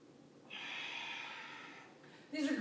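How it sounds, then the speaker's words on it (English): One slow, controlled breath during a desk-break stretching exercise, a long airy exhale close to the mic followed by the start of a sharper intake, with no talking. "I like to go real slow and controlled, breathing the whole time"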